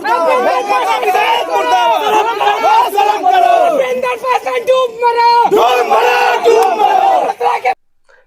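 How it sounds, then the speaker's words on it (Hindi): A large crowd of young protesters loudly chants hostile "murdabad" slogans at a politician in rhythmic bursts, voices shouting together at close range before cutting off abruptly at the end. "क्या मुर्दाबाद का नारा सुन रहे हैं?"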